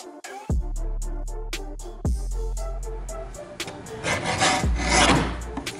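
Sublimation transfer sheets are cut, with a guidance mention of a guillotine cutter, giving sharp ticking clicks, several heavy low thumps and a rasping paper-scraping swish up close.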